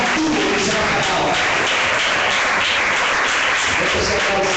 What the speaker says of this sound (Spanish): Este es el aplauso de la gente.